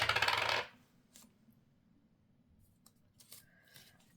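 A coin clatters onto a hard surface, a bright metallic ring lasting about half a second, followed by faint rustling and small clicks in a quiet room.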